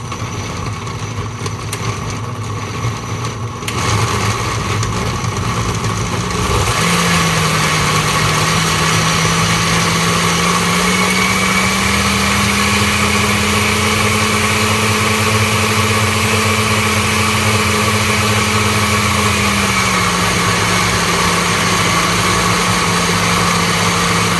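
A blender motor whirs steadily as it blends a frozen green smoothie, starting after a few quiet seconds at a lower speed, then rising in pitch at a higher speed before settling back down. It is loud and close, with no talking.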